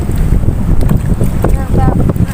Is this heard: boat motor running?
yes